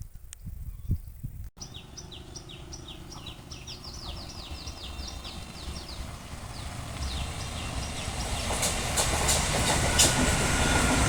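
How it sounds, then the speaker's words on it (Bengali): A down train heading toward Howrah approaches a rural level crossing between Balagarh and Jirat. It starts with birds chirping over a low rumble, and the rolling noise builds steadily louder as it nears. "দেখুন একটি ট্রেন আসছে, এখন হচ্ছে ডাউন একটি ট্রেন আসছে হাওড়া যাওয়ার দিকের।"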